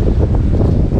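A brief, loud rush of strong wind on a mountain summit blusters against the microphone, a steady low roar without speech.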